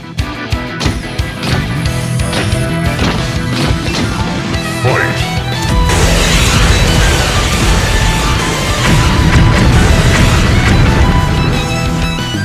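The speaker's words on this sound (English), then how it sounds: "Target locked. Missile barrage incoming." A missile barrage in Roblox Brookhaven, loud crashing blasts and booms rolling one after another, rising into a thicker, continuous roar midway through, with voices talking over it.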